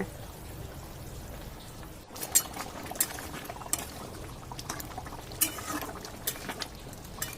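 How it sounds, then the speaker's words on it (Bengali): Katla fish curry gravy with potatoes bubbling in an uncovered pot, a steady close simmering hiss with scattered sharper pops and spatters throughout. "ঢাকাটা খুলে ফিরে এলাম, ঝোলটা ফুটে উঠেছে"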